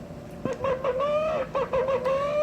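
A voice imitates a chicken clucking, a run of close, nasal, pitch-bending clucks and squawks in short bursts with brief gaps between them.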